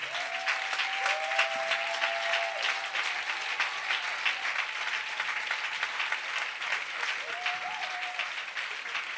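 A church congregation applauding, a dense, steady wash of clapping hands that carries on without pause for the whole stretch, with a sustained sung or spoken tone drifting faintly over it.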